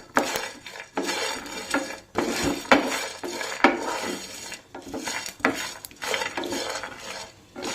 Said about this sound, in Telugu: ఇప్పుడు క్యాషూ నట్స్, ఇవి కూడా కొంచెం ఫ్రై అవ్వాలండి.